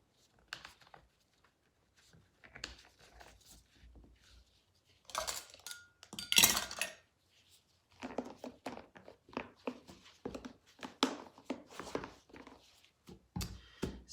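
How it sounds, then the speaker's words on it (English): Lids put on homemade baby wipe jars, several short clinks and scraping clicks in clusters between quiet gaps, close and fairly soft. "I will cover up my lids here"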